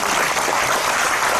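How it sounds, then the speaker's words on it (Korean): Steady, dense applause from a seminar audience after a keynote talk on climate-friendly school meals, continuous and fairly loud throughout with no speech. "여러분 20분에 맞춰준다고 다시 한번 힘찬 박수 부탁드립니다"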